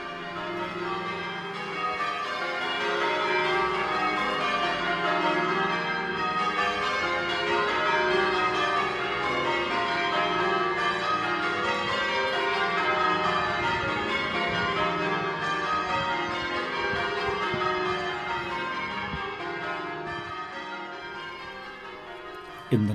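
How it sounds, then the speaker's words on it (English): A peal of ten church bells in a tower rings continuously, overlapping tones washing together in a steady, resonant cascade with no voices. "There are 10 bells in the tower"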